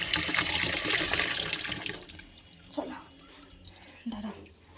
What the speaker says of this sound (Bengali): চলো কলটা বন্ধ করে দিই